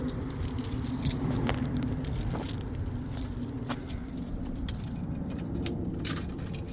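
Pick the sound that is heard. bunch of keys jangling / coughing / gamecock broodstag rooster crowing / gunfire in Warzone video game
bunch of keys jangling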